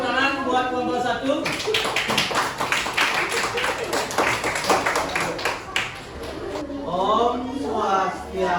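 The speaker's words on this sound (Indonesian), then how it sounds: "Silakan kasih tepuk tangan buat kelompok 1." A classroom group gives a burst of hand clapping for the first student group after its presentation in a Hindu religious education lesson. The applause is dense and fairly close, with voices briefly heard before and after.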